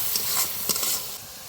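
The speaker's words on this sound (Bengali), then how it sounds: "এবার দিয়ে দেবো রসুন বাটা। পেঁয়াজের সঙ্গে ভালো করে নাড়িয়ে দেবো।" Onion and garlic paste fries in a pan for a mutton curry, giving a steady loud sizzle and hiss with a few brief scraping stir strokes.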